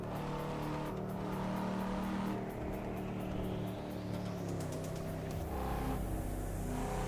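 A Volvo sedan's engine in the racing game Assetto Corsa, driven on roads in Japan, revving at full throttle with a steady loud drone that climbs in pitch, dips at each gear shift and climbs again.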